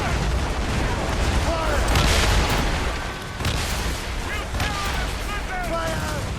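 Ship cannons firing a broadside during a naval battle in the video game Assassin's Creed Rogue: rolling booms and a heavy continuous din. Shouted voices and whistling tones cut through the noise.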